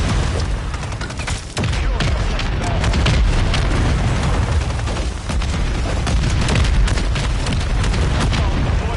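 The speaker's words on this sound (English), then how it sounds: "Friendly mortar strike on the way." Mortar strikes in Call of Duty Modern Warfare III (2023) unleash a dense barrage of booming explosions and crackling gunfire, loud and continuous, rumbling throughout with bursts of impact.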